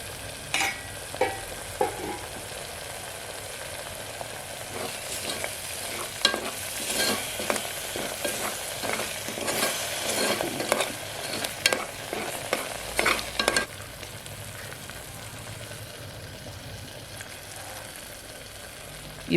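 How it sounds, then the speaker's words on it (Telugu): Masala for mutton kheema fries in a covered pan with a constant hiss, while a utensil clatters and scrapes through the middle stretch before the sizzle settles again; no voices. "మూత పెట్టుకొని ఇది పచ్చివాసన పోయే వరకు వేయించుకుందాము."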